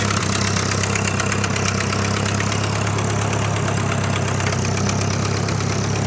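A rock bouncer off-road buggy's engine runs steadily nearby while the clutch is worked, a loud continuous rumbling idle with a faint knocking rhythm and no noticeable revving or speech.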